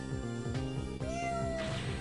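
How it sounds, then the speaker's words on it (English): A kitten meows several times in quick succession in the video game Ghost Trick: Phantom Detective, over a steady synthetic soundtrack, the calls bright and close with a rising, whiny pitch. "Oh, a kitten."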